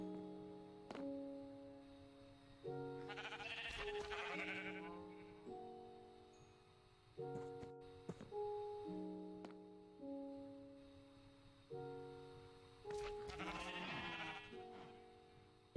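Blocky sheep in a Minecraft modpack bleat in two separate bursts over a quiet game backdrop of repeating soft musical tones, fairly faint and with no talking.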